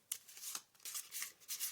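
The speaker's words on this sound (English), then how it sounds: "So give these a shuffle." Griphold Tower monster cards, a stack of twelve double-sided cards, riffled and shuffled by hand in a few close, soft papery bursts, with no talking over them.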